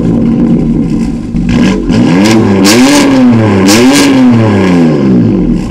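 A car engine revs repeatedly in rising and falling surges over a steady idle, loud and close, with no talking.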